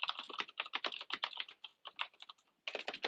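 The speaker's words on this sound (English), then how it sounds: "You can probably tell I've got one of those mechanical buckling spring keyboards." Rapid clacking keystrokes on a mechanical buckling spring keyboard, close and crisp, in irregular bursts with a brief pause before a final flurry of typing.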